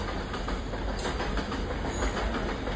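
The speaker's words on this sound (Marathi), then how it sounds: "बघा, मस्त पैकी ट्रेन दिसते इथून" A freight train runs past at close range, a steady broadband rumble with faint clickety-clack from the wagons holding constant throughout, with no talking.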